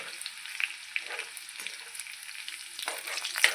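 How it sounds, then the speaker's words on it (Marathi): Crushed garlic sizzles in hot oil in a pan, a close crackling hiss with small pops and light stirring clicks. No one speaks. "आता आपलं तेल छान तापलेलं आहे त्यामध्ये आता आपण लसूण टाकून घेऊ"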